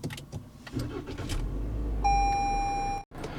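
A 2018 Toyota C-HR XLE engine starts with a tap of the push button. A low rumble builds as the engine fires, then a steady electronic chime sounds for about a second, all close and fairly quiet.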